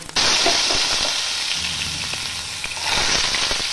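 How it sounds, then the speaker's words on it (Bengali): Potatoes fry in hot oil in a pan, a loud, steady crackling sizzle close by with brief bursts of spitting and stirring, no voices over it. "এবার আমি আলুগুলো ভেজে নেব।"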